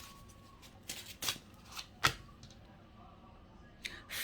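Tarot cards are handled and drawn in a quiet room, giving soft shuffling and sliding rustles with a few sharp snaps and flicks spread across the stretch, faint and close, with no talk.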